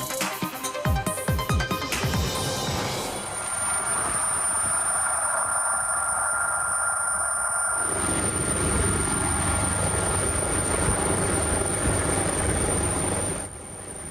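Firefighters' Drago helicopter drones steadily in flight with a loud, continuous rotor and turbine roar and a thin high whine, holding constant for most of the span before easing slightly at the end.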